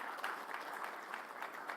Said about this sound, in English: big round of applause for Sachin